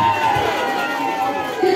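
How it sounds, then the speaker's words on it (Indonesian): A village crowd in Majalengka, Indonesia, cheers and shouts in welcome at a visit by Puan Maharani. The noisy outdoor cheering is dense and continuous, with voices mixed through it. "Tepuk tangan yang meriah!"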